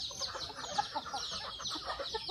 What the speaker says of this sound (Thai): ไก่มันหิวแล้วค่ะ